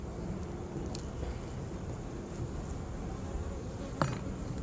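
Honeybees buzz in a constant low drone during a hive inspection, with occasional faint clicks and knocks from the frames.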